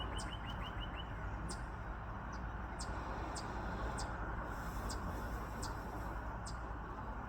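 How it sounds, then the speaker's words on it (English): Birds chirp in short, bright repeated calls outdoors near a porch, fairly faint over a steady broadband hum of traffic or background noise. "you can hear the birds sing in the background"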